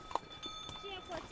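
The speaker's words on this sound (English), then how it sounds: "Horses constantly passing by." Horse hooves clip-clop faintly on a Sichuan mountain trail as horses pass by, a few irregular knocks under quiet voices.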